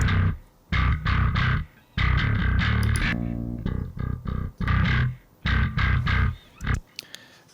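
Bass guitar track run through a BOD distortion pedal, a gritty but fairly clean-ish low line played in chopped phrases with short gaps, loud and alone, from a metal mix.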